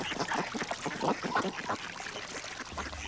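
Mallard ducks quack in a marsh, a quick run of nasal calls repeating over a soft trickling background.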